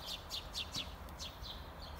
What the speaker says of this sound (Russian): О, и воробьи, и синички, все они тут близко не подпускают